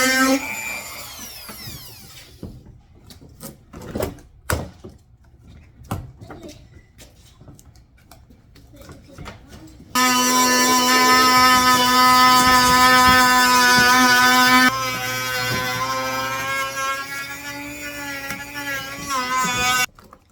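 A power cutting tool slices through the front fender of a Toyota 4Runner. Sharp bursts and handling noises come first, then a loud, steady whining cut of about five seconds, followed by a second sustained, slightly rougher pass.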